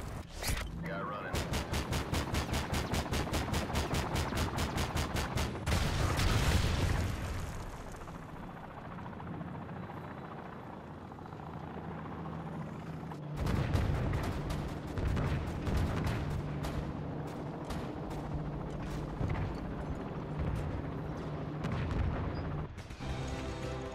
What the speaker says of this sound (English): Friendly AC-130 in the air.